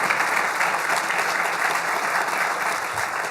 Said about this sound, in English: Let's give them a round of applause if you don't mind.